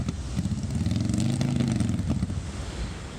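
A semi truck stuck in soft beach sand on the Outer Banks growls with a deep, continuous engine rumble that rises and falls as it revs, loud and fairly close.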